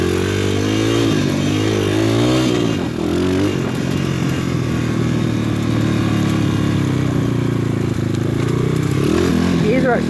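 A PitPro 140cc pit bike engine runs steadily on a trail, its loud mid-pitched drone rising and falling with throttle changes, while a rider talks over it throughout.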